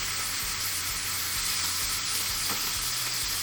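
Food frying in hot oil in a pan fills the scene with a loud, constant crackling sizzle. Faint stirring scrapes and taps sound intermittently beneath it, and no one speaks.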